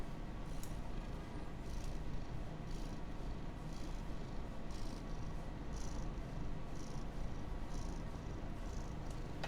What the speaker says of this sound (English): he's purring a lot today